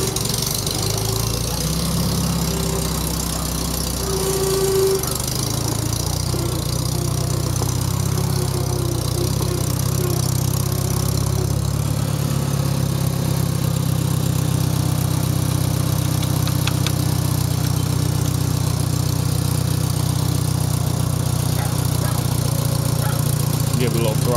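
A 1973 IH Farmall 140 tractor engine idles cold with a steady low, chugging rumble throughout, loud and close, while a voice speaks briefly early on.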